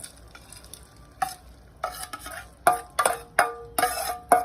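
Boondi being stirred into hot orange-tinted sugar syrup for motichoor laddu, heard as a series of close, irregular scraping and wet clacking strokes with a soft bubbling sizzle beneath, no voices.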